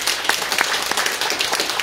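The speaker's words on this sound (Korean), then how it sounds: "큰 박수 한번 다시" Dense audience applause at a Seoul Press Center policy forum on the Overseas Koreans Act, honoring a lawmaker after a panel discussion. A steady, close, continuous patter of many hands clapping fills the whole moment.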